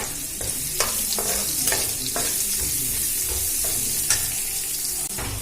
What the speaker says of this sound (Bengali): এই পেঁয়াজটা এবার ভালো করে ভেজে নেব।